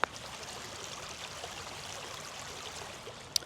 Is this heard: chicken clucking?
no